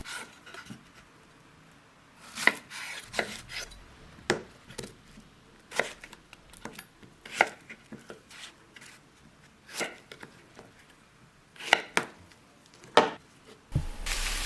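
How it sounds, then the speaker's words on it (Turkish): A knife cuts a washed white zucchini lengthwise on a board, giving a run of irregular crisp chops and taps, close and fairly quiet, with no talk. "Bir tane beyaz kabağı da aynı şekilde önceden yıkadıktan sonra uzunlamasına kestim."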